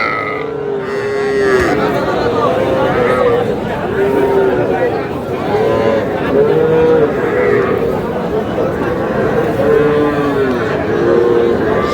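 Young bulls and heifer calves lowing repeatedly at Aftabganj cattle market, several moos spaced through the scene amid a dense crowd of people chattering and haggling nearby.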